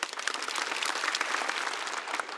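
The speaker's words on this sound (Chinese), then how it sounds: "希望大家给他们热烈的掌声" A studio audience at a stand-up comedy show claps warmly for the comedians, a dense, steady wash of applause with no voices on top.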